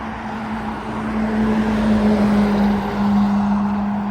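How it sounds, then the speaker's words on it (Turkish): City buses pass along a roadside, their engines a steady, loud rumble with a constant droning hum that swells and holds, with no talk over it. "Şehir içi otobüsler çok geçiyor burada."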